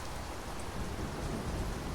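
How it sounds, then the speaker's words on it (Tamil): Heavy rain pours steadily during a thunderstorm in the UAE, a dense, continuous hiss of drops with low rumbling thunder beneath, close and unbroken throughout, with no voices. "நல்ல சரியான மழை, இடி மின்னல் புயலோடு சேர்ந்து நல்லா மழை பெஞ்சிக்கிட்டு இருந்தது"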